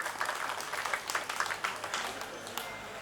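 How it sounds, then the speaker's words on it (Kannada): Audience applause at a public cleanliness-campaign event by the Rotary organisation in Belthangady taluk, a steady wash of many hands clapping with scattered sharper claps, fairly loud and continuous for about three seconds with no talk over it. "ಅವರಿಗೂ ಒಂದು ಚಪ್ಪಾಳೆಯನ್ನ ನಾವು ಕೊಡಬೇಕಾಗ್ತದೆ"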